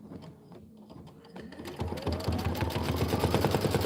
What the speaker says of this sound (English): we're going to do the decorative stitching.